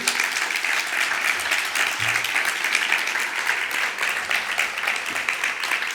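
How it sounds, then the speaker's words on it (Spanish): A conference audience gives a round-table panel a dense, steady round of applause that continues for about six seconds at an even level. "vamos a darles un aplauso, claro que sí"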